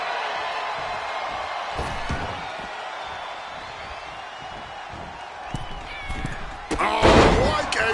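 A wrestler lands a springboard splash onto an opponent in WWE 2K26, a sharp slam near the end amid a roaring arena crowd, with commentary voices running under the impact.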